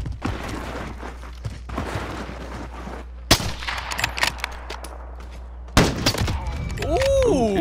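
Gunfire in the shooter game Modern Warfare, scattered bursts of shots and sharp cracks with quieter gaps between, set against game ambience.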